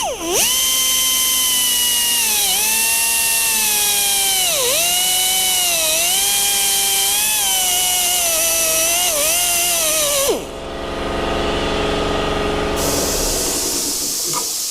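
Burr bit in a power tool drilling holes for a fuel pump mount on a 1956 Chevy, a loud high whine that dips and recovers under load for about ten seconds before stopping, leaving quieter shop noise.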